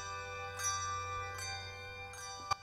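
Memorial bells ring at an outdoor ceremony in Appleton marking the 9/11 anniversary, three resonant strikes spaced under a second apart, each with a long sustained ringing tone, followed by a brief sharp knock.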